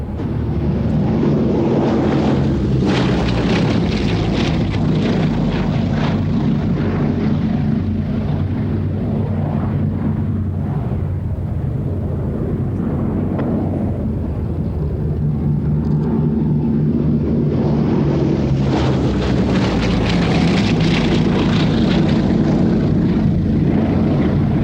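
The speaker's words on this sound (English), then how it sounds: "Flying the Blenheim is like flying no other aeroplane." Loud, continuous droning of a Bristol Blenheim's piston engines in flight, a steady throbbing roar that swells and fades slightly, with no voices.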